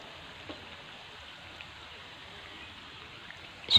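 Tempeh pieces frying in oil over medium heat until dry make a faint, steady hiss with a few soft pops and a sharper clatter right at the end.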